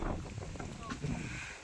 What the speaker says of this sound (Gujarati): સરસ મજાનો પવન છે